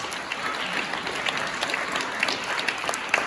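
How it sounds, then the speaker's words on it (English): Parents and kids applaud at a gathering after a championship season, a steady wash of clapping at moderate level throughout, no voices standing out. "give yourself a round of applause"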